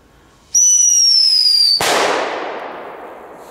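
A consumer firework bought in Poland gives a loud, steady falling whistle for about a second, then one sharp close bang whose noisy rumble slowly fades away.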